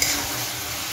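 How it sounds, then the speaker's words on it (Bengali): Fried papaya being stirred in a hot pan, a steady close sizzle with soft scraping throughout. "পেঁপে ভাজাটা দিয়ে নাড়বো।"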